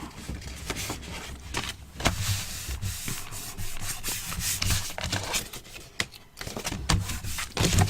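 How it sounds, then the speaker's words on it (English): Paper is burnished by hand onto a page of a Christmas scrapbook album, giving close, continuous scratchy rubbing strokes with brief pauses and sharper scuffs, with no talking. "Give it a good burnish in the centre so that that sticks."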